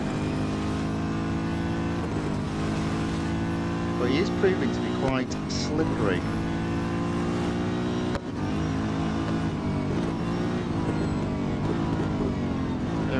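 Chevrolet Corvette C7.R race car engine in Real Racing 3 droning steadily through a lap, with gear-change dips and rises, under continuous talk from a player.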